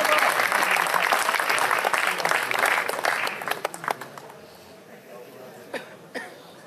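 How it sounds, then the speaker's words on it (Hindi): An audience at an Urdu-Saraiki poetry gathering (mushaira) in Kotla Jam, Bhakkar, Punjab, Pakistan claps loudly for a poet, the applause thinning into scattered claps and a few coughs and throat-clearings as it dies away. "तालियों से इस्तकबाल कीजिए"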